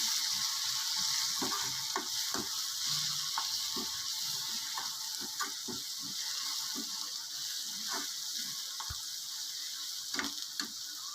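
Fish pieces for Andhra-style fish curry frying steadily in a pan, a continuous bright sizzle with scattered pops and occasional utensil clicks, close and moderately loud with no talking.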